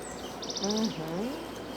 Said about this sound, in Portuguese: Ó, tem passarinhos.